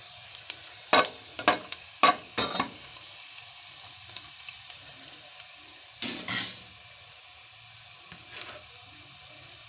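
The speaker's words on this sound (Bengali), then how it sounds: "দেখো রসুন কুচি দিয়ে দিলাম" Chopped garlic sizzles softly in a pan over a low-to-medium flame, a faint steady hiss broken by several sharp scraping stirs and knocks spaced unevenly.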